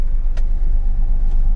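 A car engine runs during a driving lesson, a loud steady low rumble close by with a brief higher whine, and no voices over it.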